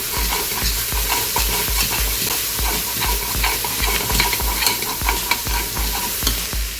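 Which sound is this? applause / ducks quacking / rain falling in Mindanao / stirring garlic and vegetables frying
stirring garlic and vegetables frying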